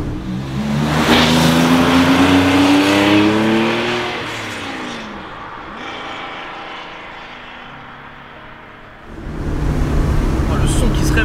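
A Porsche 911 Carrera 2.7 RS Touring engine revs up and winds down with rising and falling tones, echoing off walls, then surges again loudly near the end.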